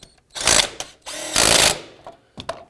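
A power tool snugs up 12 mm bolts during a clutch replacement on a 2006-2011 Honda Civic, whirring in short, loud bursts, with two long runs then quick blips, close by with no talking.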